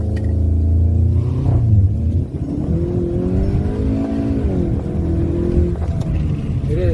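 A new car's engine revs hard while the driver tries a launch control start, giving a loud, close roar that climbs and falls in pitch through several surges, with brief dips between them and no voices.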